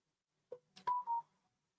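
A phone chimes a short notification alert, a couple of quick clicks followed by a sustained electronic tone, faint and isolated in an otherwise quiet room.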